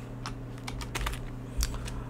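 Close computer keyboard typing in a brief burst of uneven keystrokes, a few louder taps standing out over a steady low electrical hum, with no talking.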